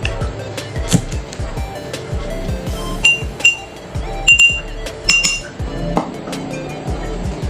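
Liquid is stirred in a glass during a lab experiment mixing oil into water, with repeated sharp clinks of the stirrer against the glass at an uneven rhythm, close and fairly loud.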